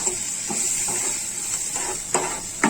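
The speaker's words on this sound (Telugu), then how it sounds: "ఇప్పుడు దీనిలో 1 స్పూన్ సాల్ట్, 1/2 టీ స్పూన్ పసుపు వేసుకొని 1 నిమిషం వేయించుకుందాము." Salt and turmeric frying in hot oil in a pan while making mango pickle pulihora: a steady soft sizzle and hiss, broken by a few scraping stirs and light pan knocks.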